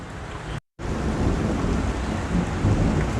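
Steady rain pours down while low thunder rumbles, with one brief moment of silence early on.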